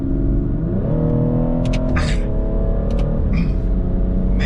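A BMW 440i xDrive Gran Coupe accelerates, engine note rising and settling through gear changes, loud and close with brief higher whines over a steady rumble.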